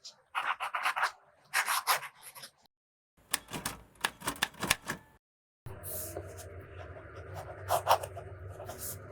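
Fountain pen with a wet fine nib writing in Pelikan Edelstein Golden Beryl ink, giving close, soft scratchy strokes in short bursts separated by pauses, with paper rustling.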